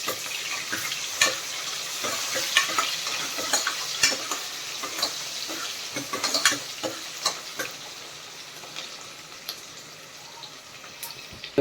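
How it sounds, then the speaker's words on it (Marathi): A small chopped onion and bay leaves frying in a pot for village-style mutton rassa, with a continuous sizzle and sharp scraping stir clicks, close and steady, no talking. "आणि आता हा एक छोटा कांदा कापून घेतला तो टाकूया. थोडासा लाल होईपर्यंत आपण त्याला भाजून घेऊया."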